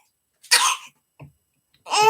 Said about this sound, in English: Look at that cough